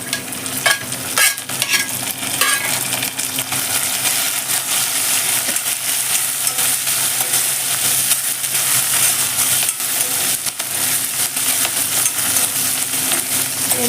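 Fenugreek leaves sizzle and fry in a hot pan of tempering for Telugu brinjal dal, a steady loud crackle with occasional stirring clinks, no voices.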